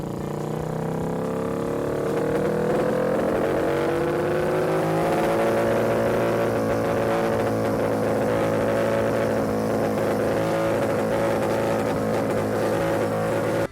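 An Orange County Chopper motorcycle running on 100% jet fuel roars close and loud, its engine note rising and holding steady in a continuous rumbling drone with no talk.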